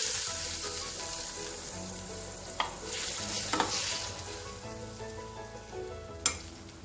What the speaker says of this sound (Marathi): आणि आपण शिजवलेल्या शेंगा आणि तुरीची डाळ आपण सोडून घालू